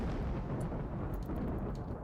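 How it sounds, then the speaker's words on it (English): Thunderstorm thunder in the video game RimWorld, a deep rolling rumble with rain hiss, sustained and fairly soft for its brief length. "It's a thunderstorm."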